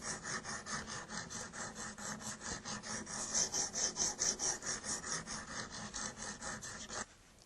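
Knife blade drawn across a sharpening stone in a KME sharpening system, a steady run of rhythmic rasping strokes, close and fairly loud, alone, stopping abruptly near the end.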